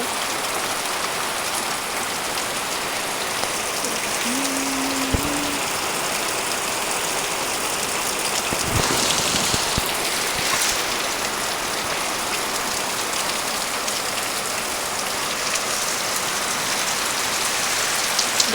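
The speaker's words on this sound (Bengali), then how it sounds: "এখন দেখো কেমন ঝড় বৃষ্টি হচ্ছে" Heavy rain pours down in a loud, unbroken roar, with a brief low tone and a few sharper splashes partway through.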